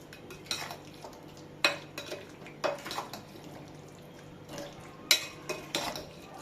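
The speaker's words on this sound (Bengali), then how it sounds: "চিংড়ি মাছ, পোস্ত বাটা, সর্ষে বাটা, আমি পোস্তর সঙ্গে একটু কাঁচা লঙ্কা আমি বেটে রেখেছিলাম, এটা দিয়ে দিচ্ছি। এইগুলোকে একসঙ্গে মাখিয়ে নিচ্ছি।" Raw shrimp is mixed by hand with poppy seed paste, mustard paste and green chili, giving soft squelchy stirring and occasional light utensil clinks, close and fairly quiet.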